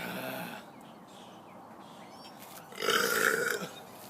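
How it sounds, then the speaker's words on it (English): A person burps on purpose outdoors, with a low rumbly eructation near the start and a louder, rougher burp about three seconds in, against steady background noise and no talk. "At least 3 burps again."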